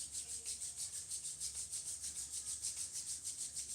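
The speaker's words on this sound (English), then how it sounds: "And then rub them once again." Palms rubbed briskly together during a pregnancy relaxation practice, making a quiet, even run of rapid swishing strokes, about four per second, with nothing else heard.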